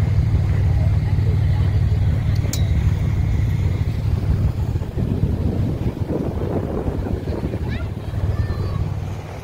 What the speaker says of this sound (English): it's really quite windy